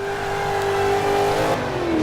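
A supercharged 6.2 liter V8 Corvette ZR1 revs in the Forza 5 video game, a loud sustained engine note that climbs steadily before dropping off near the end.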